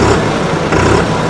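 A New Holland 3630 tractor's turbocharged diesel engine runs loud and close, a steady, rough rumble with no voices.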